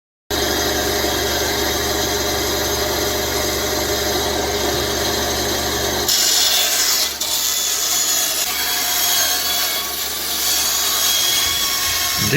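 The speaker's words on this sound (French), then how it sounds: "Découpe avec scie à ruban et lame acier." A band saw fitted with a steel blade cutting during restoration work at Notre-Dame-des-Victoires, a steady loud grinding whine that runs unbroken, its tone shifting partway through as the cut changes.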